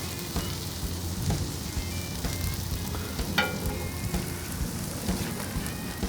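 Onions and mushrooms sizzling and frying on a Pit Boss KC Combo griddle, a steady broadband hiss with faint scraping as they are stirred, no voices.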